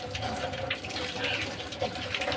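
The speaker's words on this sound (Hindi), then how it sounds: "हमें साफ पीने का पानी भरना है मटके में" Clean drinking water runs and splashes into a clay pot being filled for homemade kanji, a steady gushing pour heard up close without talk.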